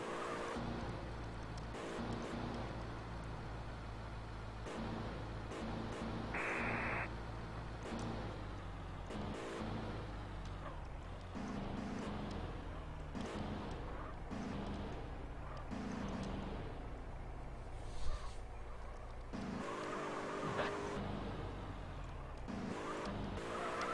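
A red sports car tears along at speed through sewer tunnels in a Russian police video game, its engine droning steadily with scattered tire squeals and skids, loud and continuous throughout.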